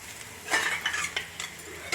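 Roselle flowers frying in a pan with a spoon scraping and stirring, bursts of stirring noise and light sizzle coming in short irregular strokes at moderate volume, no voices.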